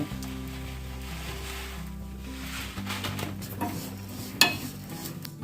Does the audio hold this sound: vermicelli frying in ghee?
yes